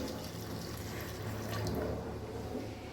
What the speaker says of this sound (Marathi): यामध्ये गरम केलेलं पाणी टाकणार आहे